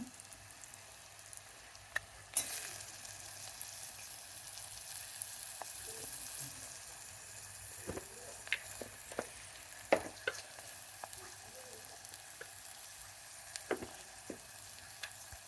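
Tomatoes frying in a pan with brown rice kichidi ingredients such as ginger garlic paste, mint and moong dal: a steady close sizzle, with scattered sharp pops and stirring clicks throughout, and no voices.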